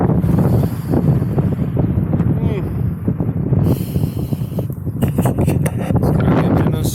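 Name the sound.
wind blowing at Dublin port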